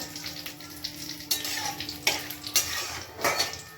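Whole spices with cloves, cardamom and cinnamon are stirred in a pan on a gas stove, giving a few sharp metallic scrapes and clinks over a faint sizzle, close and sparse.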